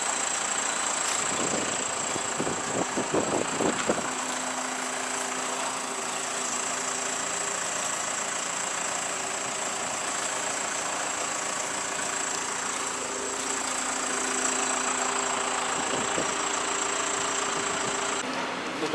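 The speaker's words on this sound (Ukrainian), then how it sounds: "І все погрузчик робить." A forklift engine idles steadily in a warehouse hangar, a low continuous hum heard from nearby, with a few short clanks near the start and a faint steady whine on top.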